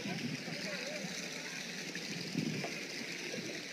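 A stream in Cao Bằng flows with a steady, even rush of water, a constant wash of sound at moderate level with no clear voices over it.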